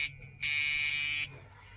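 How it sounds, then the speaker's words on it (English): Steady electronic warning buzzer inside a 1978 Chevy Nova, a bright sustained tone sounding for under a second between quieter cabin noise, loud and close. "I'm trying to keep this buzzer off."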